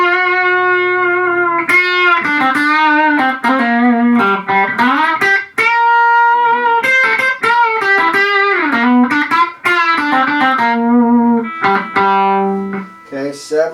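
Electric guitar played through a 1965 Fender Princeton amp on a dirty, overdriven setting, a sustained run of picked notes and chords that ring out loud and steady throughout, with no talking.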